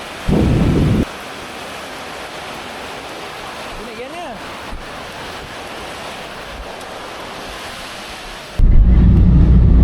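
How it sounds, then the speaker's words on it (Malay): Steady rain falls with a deep rumble of thunder during a trip to Kuantan, heavy and continuous throughout. Louder bursts of rain come near the start and the end. "Ni pula masa nak balik boleh pula hujan."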